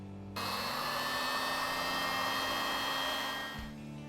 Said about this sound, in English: put the shrink wrap over it, shrink it down